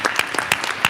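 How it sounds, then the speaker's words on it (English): Audience at a town hall meeting applauds, a dense wash of many hands clapping, loud and close, filling the short moment without a break. "Can we give them a round of applause?"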